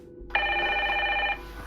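A telephone rings once in a single steady electronic burst lasting about a second, clear and close against a quiet room hum.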